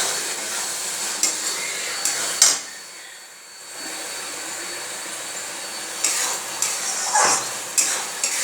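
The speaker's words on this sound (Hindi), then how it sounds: "ये मैंने मसाला डाल दिया, थोड़ा सा इसे फ्राई करेंगे।" Spice masala for a chicken fry curry sizzles in a pan, with intermittent stirring clatter over a steady frying hiss that dips briefly quieter midway before the scraping resumes.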